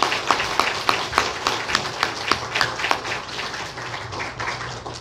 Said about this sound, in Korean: 우리 하나님께 영광의 박수로 돌려드리겠습니다.